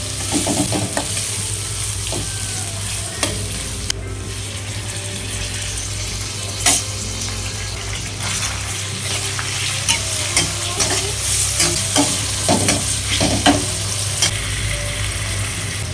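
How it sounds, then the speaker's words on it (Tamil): Onions sautéed in a pan for egg curry sizzle steadily while a utensil scrapes and stirs in frequent clicks and knocks, near and continuous, with no talk. "நல்லா வதக்கி எடுத்துக்கோங்க வெங்காயத்தை."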